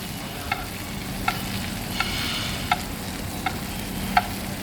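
White meat sautés in a pan of butter, a steady close sizzle and crackle with a few sharp spatula taps at regular intervals, no voices.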